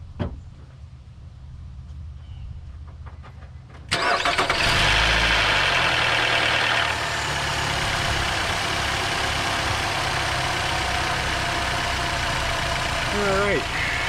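A 2012 Nissan Rogue 2.5S engine cranks and catches with a sudden loud start, then settles into a steady, even idle close by, with a faint chirp near the end.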